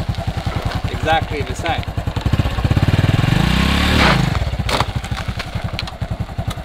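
Engine of a Honda semi-automatic motorbike, revved with the clutch half pressed, climbing to a loud, rising roar and then dropping back to a rough, chugging idle, with someone talking over it.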